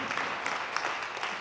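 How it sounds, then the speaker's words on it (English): Scattered clapping from an audience at a women's conference in Sacramento, faint and fairly distant, a soft continuous patter of hands lasting just over a second. "You can clap."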